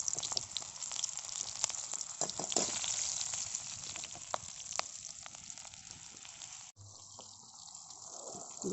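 Onions sizzle and fry in a pan for a fish besara curry, a steady crackling hiss dotted with sharp pops that shifts abruptly near the end into a quieter, lower simmer.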